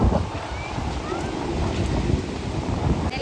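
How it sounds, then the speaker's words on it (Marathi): Wind buffets the microphone at a seashore while waves wash in a steady, roaring rush, loud and unbroken with no voices. "आपण समुद्र किनारे आले."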